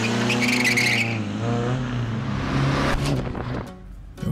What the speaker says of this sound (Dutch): Het diepe geronk in de motor